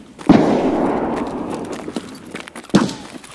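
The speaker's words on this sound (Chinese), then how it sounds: "扔颗雷， 到拐角了， 再扔" Grenade blasts in Escape from Tarkov, a sharp heavy boom followed by a long rumbling tail, then a second thump closing the clip, loud and close.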